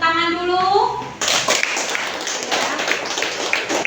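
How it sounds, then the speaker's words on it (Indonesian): Children in an Islamic cultural history classroom break into applause after an answer, their steady clapping filling the room and following a brief sung or spoken voice at the start, with scattered talk over the clapping. "Kita beri tepuk tangan dulu."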